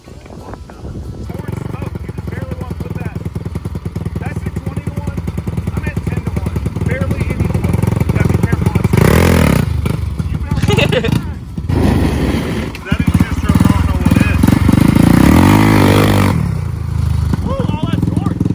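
An old Yamaha BW200 two-stroke motorcycle engine runs steadily at close range, rising in a loud revving burst midway, with a person talking over the rough, buzzing idle.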